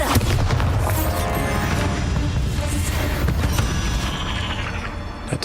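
A Bombarda spell explosion in Hogwarts Legacy, a loud continuous blast and rumble with crashing debris that fills the whole moment.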